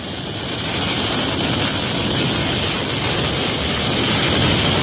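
Rescue helicopter airlifting a body near a waterfall, its rotor and engine roaring loud and steady throughout, close overhead with no voices.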